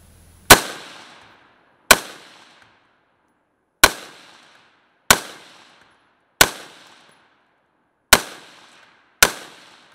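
Seven sharp, loud rifle shots from a 14.5-inch BCM AR upper, evenly spaced about a second or two apart, each a crisp crack with a short decaying tail outdoors.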